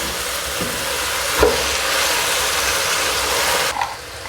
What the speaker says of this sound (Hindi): लहसुन डाल रही हूँ। और हल्की आंच पे आपने जो है ना, इसको फ्राई करना है।